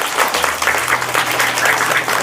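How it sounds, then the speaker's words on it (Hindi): A classroom of students gives a student a loud, dense round of applause, close and sustained throughout with a low hum beneath. "तो बजाय उसके लिए जोरदार तालियां।"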